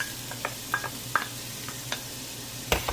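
Carrots being stirred into a pot of beef vegetable soup give scattered light scrapes and clinks of a utensil against the pot, a few sharp taps spaced irregularly over a low steady hum.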